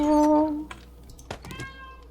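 A single cat meows clearly at the start, followed by a few soft clicks and light tapping in a quiet room.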